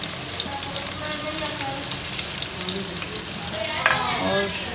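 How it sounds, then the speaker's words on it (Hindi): Onions frying in a wok with cumin seeds and black peppercorns for an aloo baingan dish, a steady close sizzle with crackling pops that swells slightly toward the end, no talking. "मैंने कढ़ाई में ज़ीरा और गोल काली मिर्चें डाली हैं। अब प्याज शामिल करेंगे।"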